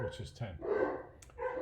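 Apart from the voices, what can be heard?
dogs barking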